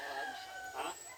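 A chicken clucks and calls nearby in a short, rising and falling burst over quiet outdoor background.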